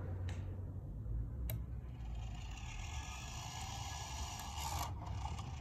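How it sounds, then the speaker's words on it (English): A fan coil unit in a hotel room whirs steadily at high speed while its valve moves, a faint mechanical rasp and scrape with a couple of light ticks running under the fan hum. "The valve is moving"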